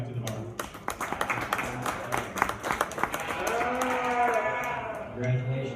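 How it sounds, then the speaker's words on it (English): Steady crowd applause fills a fair livestock show ring after a yearling ewe class, with sheep bleating faintly and an announcer talking over the clapping. "Please give her a round of applause as she heads back to the barn."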